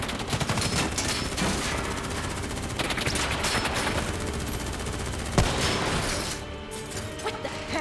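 Continuous automatic gunfire in a Call of Duty: Black Ops III campaign firefight, a dense steady barrage of rapid shots with one sharper crack near 5.4 s, loud throughout and with no speech over it.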